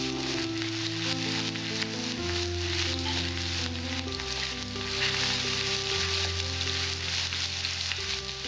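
Chopped garlic and ginger fry in a pan, giving a steady, loud, dense sizzle that runs without a break over soft background music.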